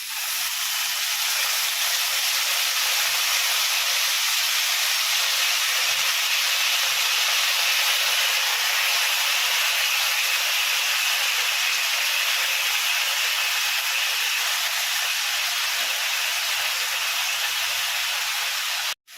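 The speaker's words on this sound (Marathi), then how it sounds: "आता याच्यामध्ये आपण जी धुतलेली भाजी आहे ती घालून घ्यायची" Washed leafy greens (amaranth, chavli) hit hot oil with garlic and fried chillies, giving a loud, steady, hissing sizzle that stays strong for about nineteen seconds and stops abruptly at the end.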